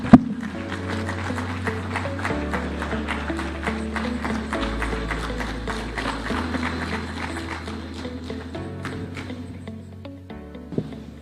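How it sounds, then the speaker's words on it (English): An audience at a conference in Eldoret claps to welcome His Excellency, steady rhythmic clapping in time over sustained musical tones, with no voice heard. "Let's welcome His Excellency with a hand clap."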